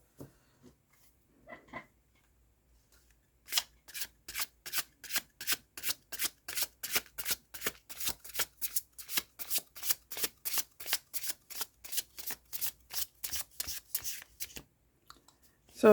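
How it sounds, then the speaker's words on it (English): Tarot cards being shuffled over and over, a fast regular series of crisp riffling bursts close by, after a few quieter handling sounds at the start. "Let's shuffle."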